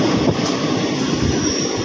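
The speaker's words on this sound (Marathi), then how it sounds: "आता पुढं ट्रेनमध्ये बसलो आहे" A passenger train running, heard from inside a carriage: a loud, steady low rumble of wheels on rails with a continuous rolling roar and faint high squeal, no talk.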